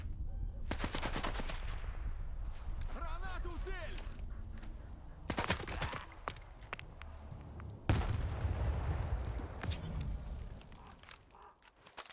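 Heavy gunfire during a firefight at Malachite in the video game S.T.A.L.K.E.R. 2: loud, repeated bursts of automatic and single shots in clusters, some distant, with rumbling echoes between volleys.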